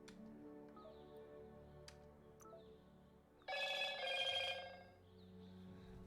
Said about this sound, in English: I need to mute my phone.